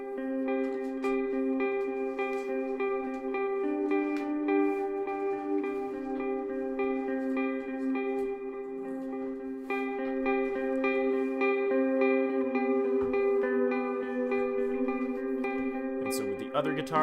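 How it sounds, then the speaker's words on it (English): A sustained electric guitar part from an acoustic song mix, played alone, ringing chords drenched in effects like chorus and reverb, steady and continuous throughout. "you have the electric guitar that comes in"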